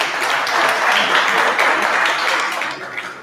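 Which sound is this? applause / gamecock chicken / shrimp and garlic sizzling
applause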